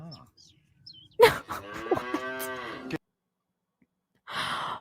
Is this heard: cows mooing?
yes